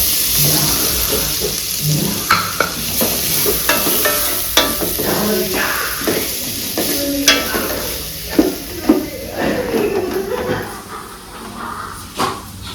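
Chopped onion sizzling and frying in a pan for Kolhapuri misal, a steady hiss broken by frequent scrapes and stirring knocks, close and fairly loud throughout.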